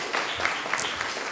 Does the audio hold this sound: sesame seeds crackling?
no